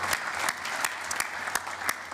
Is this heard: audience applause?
yes